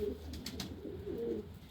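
A pigeon coos softly in low, rounded notes, twice in a short span, against a steady low background hum.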